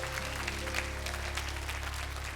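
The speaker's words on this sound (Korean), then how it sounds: "박수 한번 부탁드립니다" A television studio audience claps on a Korean MBC lecture show, a short, even patter of applause over a low steady hum.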